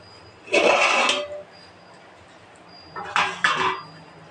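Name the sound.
lifting the lid off the chicken biryani pot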